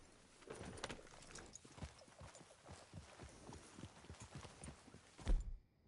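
Horse hooves clip-clopping at a steady walking rhythm in the video game Red Dead Redemption 2, faint and even, ending with a brief louder thump; no clear whinny stands out.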